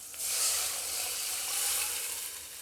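Lentils (dal) hit a pan of sizzling coriander tempering, setting off a bright, close hiss that swells quickly and holds steady for a couple of seconds before easing slightly, with no voices.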